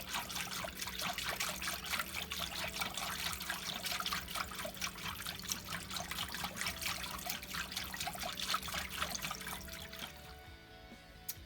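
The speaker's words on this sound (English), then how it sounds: "you're going to add 2 tablespoons of canola oil slowly" Canola oil is poured slowly, making a steady, close trickle for about ten seconds that stops abruptly and leaves a quieter tail.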